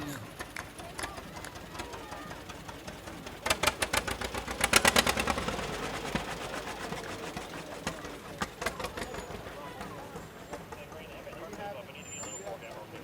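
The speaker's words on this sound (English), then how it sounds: "1936 AR John Deere tractor" A 1936 John Deere AR tractor in a firemen's parade chugs with an irregular run of loud popping exhaust beats that build and then thin out, over crowd noise and an announcer talking.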